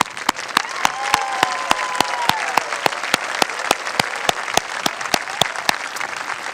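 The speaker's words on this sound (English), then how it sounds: "Let's give them a round of applause." A graduation ceremony crowd applauds steadily, with continuous clapping from a large audience and a few sharp, close claps standing out in a regular beat.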